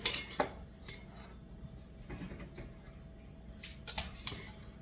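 A bowl set down beneath a strainer makes a few light, close clinks of kitchen crockery and metal, with sharp knocks at the start and near the end and quiet handling in between.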